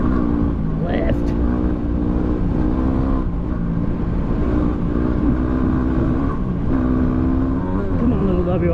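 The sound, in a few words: Yamaha WR250R motorcycle engine revving while sliding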